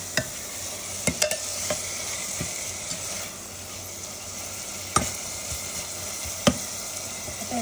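Crab masala fries in a pan with chilli, salt and turmeric, making a continuous close sizzle broken by a few sharp clinks from a stirring spoon.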